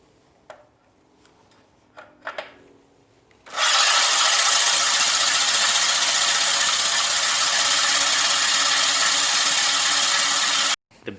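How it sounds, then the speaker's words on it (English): An electric drill turns a reel mower blade backwards to backlap it, giving a loud, steady grinding rasp that starts abruptly after a few quiet clicks and runs unbroken for about seven seconds before stopping. "I'm going to put the electric drill on the sprocket over here and turn the blade backwards so that it grinds and sharpens the blade through the backlapping process"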